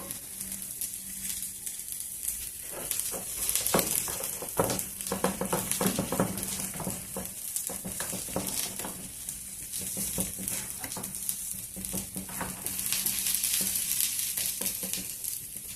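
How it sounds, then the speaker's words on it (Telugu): Coriander leaves being stirred into a tamarind pickle chutney in a pan, with soft scraping and mixing sounds over a steady sizzling hiss, close and continuous throughout. "కొత్తిమీర వేసేసినాను ఇంకా బాగా కలిపెడదాము"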